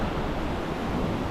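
Ocean waves break and wash against a rock fishing ledge on the coast, a close, steady roar of surf and spray with wind noise and no talking.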